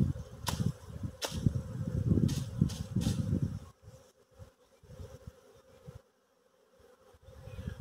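A swarm of honey bees buzzes around a tree during natural beekeeping below the Tatra mountains, a dense steady hum with individual bees zipping close past, then thinning to scattered buzzing.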